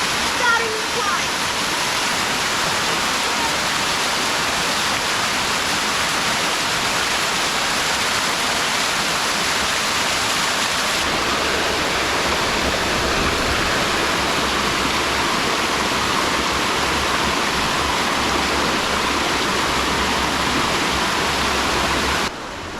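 A waterfall along the Gibb River Road roars as a steady, loud broadband rush of falling water, continuous for the whole stretch and close by, with the tone shifting slightly partway through.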